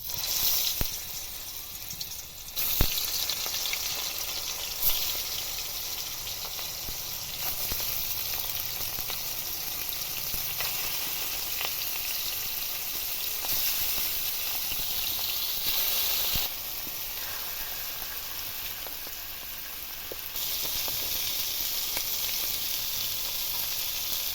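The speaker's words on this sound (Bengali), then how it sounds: "কড়াইয়ের মধ্যে সর্ষের তেল দিয়েছি দিয়ে মাছগুলো এবার একে একে ভেজে নেবো" Pangas fish pieces frying in mustard oil in a wok, a loud continuous hissing sizzle that runs steadily, briefly dipping and swelling as pieces shift, with occasional sharp clicks.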